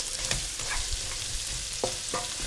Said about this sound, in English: once the spices start to sizzle,